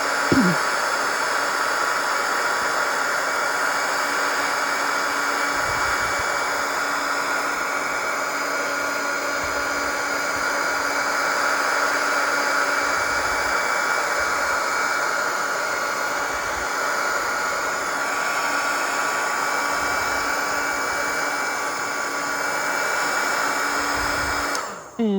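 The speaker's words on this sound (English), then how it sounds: "we're going to take our heat gun and we're going to dry these" A heat gun blows steadily on die-cut paper poinsettia craft pieces, a constant close whooshing hiss that holds evenly for about twenty-five seconds with a few faint soft knocks underneath, with no talking.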